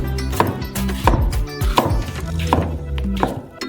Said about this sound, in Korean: 순수한 멜론 과육을 썰어주세요.